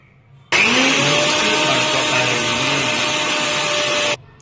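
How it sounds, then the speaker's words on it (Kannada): A mixer grinder jar blends garlic, ginger, green chili and spinach into a fine paste. The loud, steady motor whir starts abruptly, runs close and alone for about three and a half seconds, then cuts off. "ಶುಂಠಿ ಮೆಣಸಿಕಾಯಿ ಪಾಲಕ್ ಸೊಪ್ಪನ್ನು ಮಿಕ್ಸಿ ಜಾರಲ್ಲಿ ಹಾಕ್ಕೊಂಡು ಮಿಕ್ಸ್ ಮಾಡಬೇಕು"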